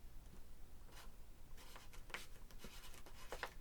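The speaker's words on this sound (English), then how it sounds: "So I'll write you down for..." Soft pen scratching on paper as a name is written down, faint close strokes with small bursts of scribbling, quiet and intimate with no talking.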